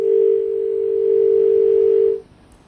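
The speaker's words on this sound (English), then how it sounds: "Okay, the call got disconnected." A continuous telephone dial tone sounds after a call drops, a loud, steady, unbroken hum lasting just over two seconds before it stops abruptly and leaves near silence.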